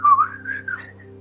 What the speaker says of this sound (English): I will start whistling